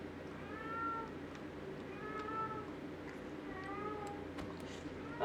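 An indoor pet cat meows three times in an even rhythm, each cry clear and fairly close over a low, steady background hum.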